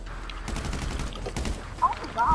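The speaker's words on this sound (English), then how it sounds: "I got an assault shotgun and he not dying." An assault shotgun fires in GTA 5 Online, with a rapid burst of several sharp blasts over game noise and some background talk.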